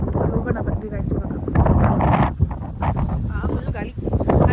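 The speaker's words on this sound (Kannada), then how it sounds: "ಫುಲ್ ಗಾಳಿ." Strong wind blows through a home garden planted with banana, pomegranate and tomato, roaring and buffeting close to the microphone almost without pause, while people talk underneath.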